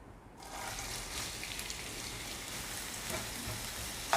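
Three medium onions, about 200 grams, frying in oil in a pan, giving a steady, close, even sizzle that runs throughout with no talk.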